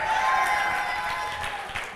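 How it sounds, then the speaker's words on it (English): A conference audience cheers and applauds a panel, a dense steady wash of crowd noise and clapping that stays loud through the moment and eases slightly toward the end. "Everyone give a cheer for the panel for this time."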